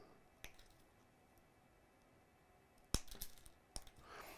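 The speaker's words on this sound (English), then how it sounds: "using the flush cut side of the flush cutters, I'm going to go ahead and pop each one of these" Flush cutters snip the trimmed wires of a CAT6A cable during termination with a Connectec UTP plug: three sharp, close clicks spaced apart over a quiet room background, with no voices.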